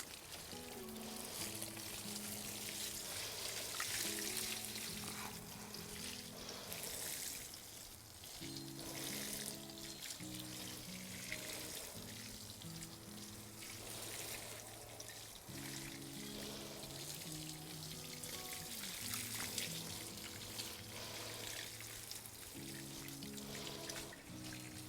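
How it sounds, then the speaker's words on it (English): Steady, soft spray of water from a garden hose over a freshly planted garlic bed outdoors, a continuous hiss lasting throughout, faint and even, with quiet low background music underneath and no talking. "I'm gonna water all of that in"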